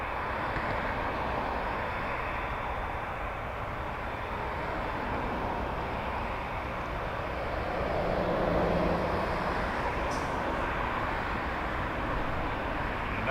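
Air Canada Boeing 787 Dreamliner airliner at Toronto Pearson, a steady broadband jet roar at moderate distance, holding level for over ten seconds with a slight swell near the end.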